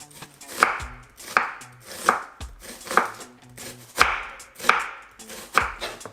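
Celery and red onion are chopped with a knife on a board, eight or so steady, evenly spaced cuts that land close and clear, with a faint background hum and no talk.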